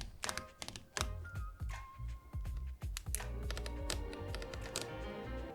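Camera dials on a Fujifilm X-T5 give a run of sharp, close clicks and thunks at an irregular pace, loud and dry, with no voices.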